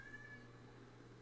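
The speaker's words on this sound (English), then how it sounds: "Oh, the cat wants to get out." A house cat meows indoors, wanting to be let out: one faint, brief meow over a steady low hum.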